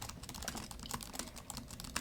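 Rapid typing on the keyboard of an ASUS Chromebook Flip CX5 14-inch laptop, a steady patter of quiet, crisp key clicks, close up with no talking.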